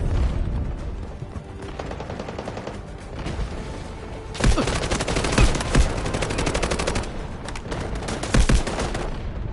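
Sustained automatic gunfire from the video game Delta Force crackles loudly and steadily, with repeated rapid bursts and heavier thumping shots punctuating the stream.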